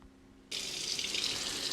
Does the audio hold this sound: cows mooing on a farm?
no